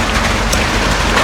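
Rain falls heavily and close by, a loud, dense, continuous patter and hiss across the whole moment, with no one talking.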